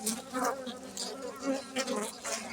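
Honeybees buzz at an open hive as new young bees emerge from the comb, a close, continuous hum that swells and fades as individual insects pass near.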